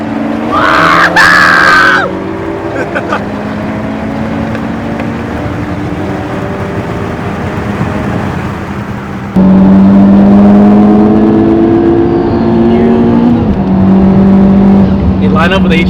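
Toyota Supra accelerating hard during a roll race: a loud engine roar climbs through the gears, with rising tones and a sudden jump in intensity midway, as people shout and talk close by.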